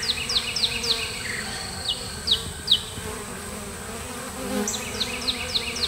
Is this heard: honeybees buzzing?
yes